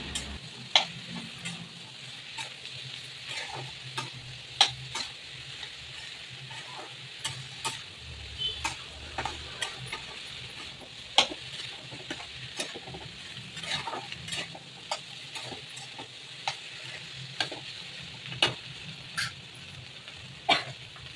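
Chopped okra fries with turmeric in a pan, a soft steady sizzle under frequent sharp taps and scrapes of a spatula stirring, close and alone.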